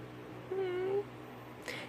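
A tabby cat gives one short, quiet meow, heard alone and faint against a still background.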